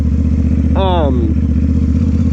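CFMoto 450SS motorcycle downshifting in a parking lot: a steady low engine drone with a quick rising-then-falling rev blip in the middle, close and loud.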